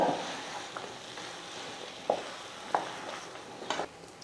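Semolina and grated dry coconut are stirred in a pan, giving soft scraping strokes and faint gritty rustling at intervals, close but quiet, with no talking.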